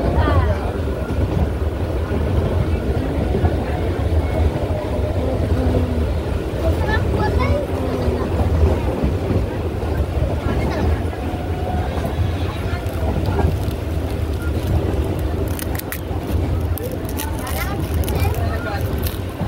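A Bangaon–Santipur local train on the line toward Ranaghat rounds a curve. A loud, continuous rumble and rattle, mixed with wind noise, lasts about twenty seconds, with voices talking over it.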